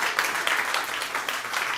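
A comedy show audience claps and cheers in a dense, steady burst lasting under two seconds, loud and close with no talk over it.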